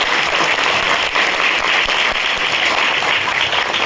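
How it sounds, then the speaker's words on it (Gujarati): Dense, loud, continuous applause from a crowd honoring Nilaben at a Women's Day celebration, heard close with no pauses. "તો ફરીથી આપણે નીલાબેન માટે અત્યારે હાજર છે ત્યારે તાળી પાડી સન્માન કરીએ."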